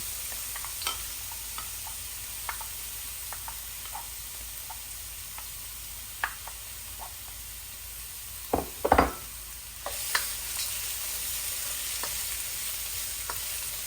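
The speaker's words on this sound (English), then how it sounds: "we're just going to put our mushrooms in and start frying them" Mushrooms sizzle steadily in hot oil in a wok while making pork, mushroom and cabbage dumplings, a constant crackling hiss broken by occasional knocks and scrapes of stirring.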